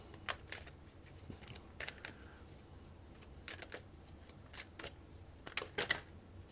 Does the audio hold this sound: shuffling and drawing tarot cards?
yes